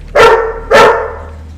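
Two loud, close barks from a dog, the second following about half a second after the first, then a fading tail into a quiet room.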